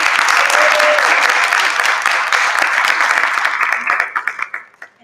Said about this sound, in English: I want to give a big round of applause for everyone that participated in this production